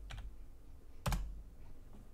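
Keys on a computer keyboard are typed in two short bursts of clicks, a quick pair near the start and a louder cluster about a second later, close up in a quiet room.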